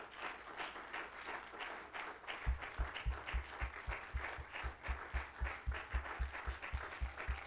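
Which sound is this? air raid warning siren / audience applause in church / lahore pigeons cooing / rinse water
audience applause in church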